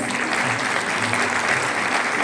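Dense, sustained applause from an audience at an anniversary celebration ceremony, many hands clapping at a steady, loud level with no breaks.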